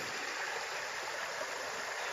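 A river current flows steadily at a riverside campsite in Tanay, Rizal, a constant, close rushing wash of water with no pauses.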